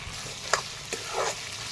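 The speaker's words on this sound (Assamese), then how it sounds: "এইফালে মাংসখিনি ভাজি কিমান ধুনীয়াকৈ তেল ওলাইছে চাওক" Chicken meat frying in oil in a pan, a soft continuous sizzle with a few sharper pops and spatters, moderately close and without talk.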